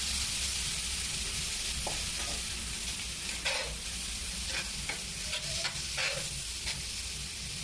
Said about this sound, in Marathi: छोले पण त्याच्यामध्ये छान परतून घ्यायचे आहे।